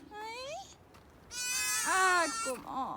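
Dwarf goats bleat in two calls, a shorter wavering cry followed by a louder, longer drawn-out bleat with a quick trailing call, close to the listener, with a gentle voice talking softly to them in between.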